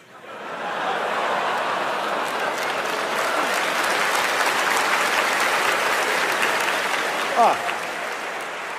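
Audience at a stand-up comedy show breaks into sustained applause mixed with chuckles, building quickly and holding loud, with a brief exclamation near the end.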